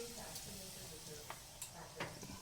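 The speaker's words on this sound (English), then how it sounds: "You want to fry this for a good 3 minutes at least" Semolina frying and being stirred in a pan over a low flame, a soft continuous sizzle with a few scraping stir strokes, quiet and close.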